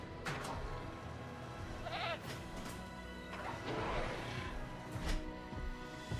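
Sheep bleat several times in Jurassic World Evolution over a dense, steady background hum, the calls wavering and fairly close, with no talking.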